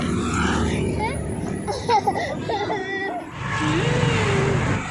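A motor vehicle approaches along a road, its engine rising and swelling louder near the end, mixed with people talking and background chatter.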